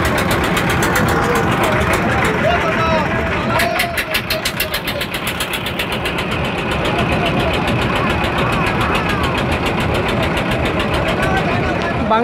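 A large boat's engine chugs on the Ichamati river with a steady, rapid mechanical pulse that runs the whole time. Crowd chatter and festive noise fill the background.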